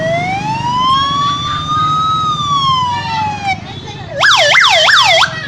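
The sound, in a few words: man imitating a 108 ambulance siren with his voice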